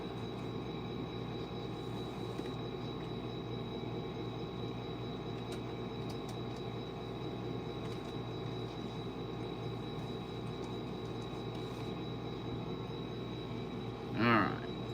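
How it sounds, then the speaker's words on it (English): A model railroad train runs along its track layout with a steady motor hum and rolling rumble throughout, ending with a brief, louder burst. "We'll get us a train rolling."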